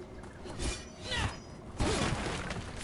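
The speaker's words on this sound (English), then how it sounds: "This time, I'm breaking all kinds of crates." Wooden crates being smashed in Dragon Age: The Veilguard, with a few separate cracking, splintering bursts over a quiet game backdrop, each break loud and close.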